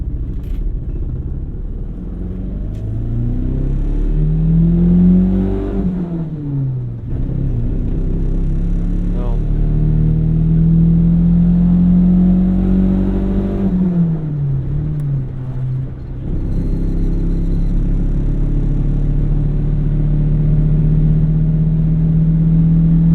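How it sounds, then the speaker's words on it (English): A 1999 Toyota Corolla with about 260,000 miles and a manual gearbox cruising at highway RPM in 5th gear, heard from inside as a steady, loud low engine drone whose pitch slowly rises and dips with small throttle changes. "I like that highway RPM in 5th gear."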